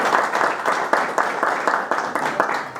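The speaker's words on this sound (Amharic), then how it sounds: "ሞቅ ያለ ጭብጨባ አድርጉለት" An audience claps warmly for Inspector Adane at an Amharic thank-you ceremony, dense steady applause filling the room with a faint voice underneath.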